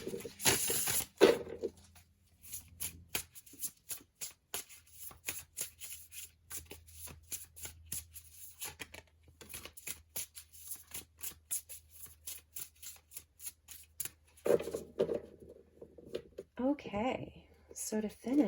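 Oracle cards from a Sacred Creators Oracle deck being shuffled in quick, crisp riffling bursts that repeat through the stretch, close and fairly loud, with brief pauses between rounds.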